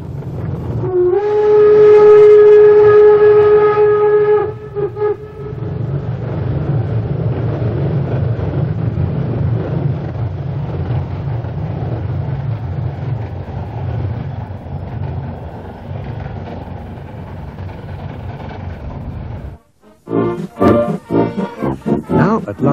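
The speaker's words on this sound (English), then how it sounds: "The meter gauge steam railway between the towns of Wernigerode and Nordhausen" A meter-gauge steam train on the Harz Railway between Wernigerode and Nordhausen sounds a long, loud whistle, then chuffs and rumbles steadily nearby for a long stretch, followed by clanking noises at the end.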